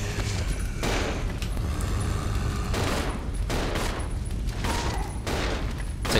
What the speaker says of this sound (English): Stop shooting! Especially stop shooting that bloody shotgun.